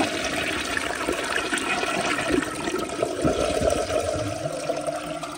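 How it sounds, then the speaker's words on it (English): A round 1984 Lamosa Atlas toilet flushes with a loud, steady rush of pouring water that lasts the whole stretch, close and alone, with no voices. "So here's another flush."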